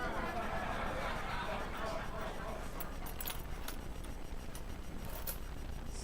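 Handfuls of old, salvaged keyboard keys rattle and jangle in quick clattering bursts, faint against a steady background hiss, with crisper clicks clustering toward the end.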